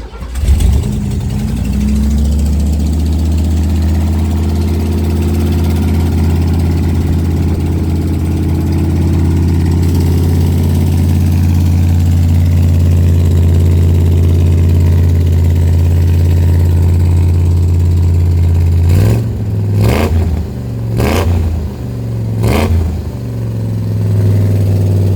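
A 1965 Ford F-100 short bed truck cranks and fires up, then settles into a loud, deep, rumbling idle, with several sharp throttle blips near the end.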